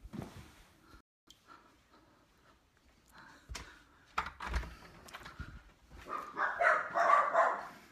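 Puppies barking indoors, scattered yips and short barks that grow busier and louder toward the end, with a few thumps in between and no talking.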